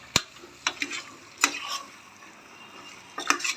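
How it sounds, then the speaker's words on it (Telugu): Mutton being stirred in a pan, with a few sharp scraping clinks of a utensil against the metal over a faint, quiet sizzle. "బాగా మంచిగా కలుపుకోవాలి."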